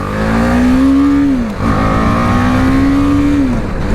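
A 2020 BMW G310GS single-cylinder motorcycle engine revs hard twice. Each time the pitch climbs steadily, holds briefly at the limiter, then drops. The engine sounds loud and close, with no talking.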